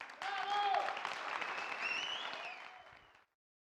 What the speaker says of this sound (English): Another big round of applause for El Especialista